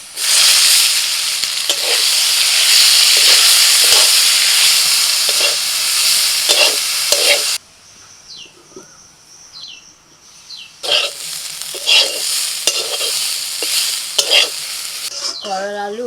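Bitter gourd pieces and potato stir-frying in oil with a broken green chilli, a steady loud sizzle broken by repeated stirring scrapes, pausing briefly before the frying hiss resumes.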